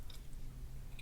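Someone quietly chews a mouthful of struffoli, small Italian fried dough balls coated in honey, making soft, brief crunching and squishing sounds close up.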